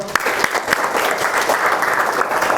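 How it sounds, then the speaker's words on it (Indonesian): A classroom of students claps for a classmate in a short burst of close, lively applause, with a few sharper individual claps standing out. "Beri tepuk tangan lo,"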